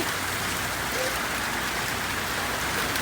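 Steady rain falls on a backyard with a pool, making a dense, even hiss that stays constant and fairly loud throughout.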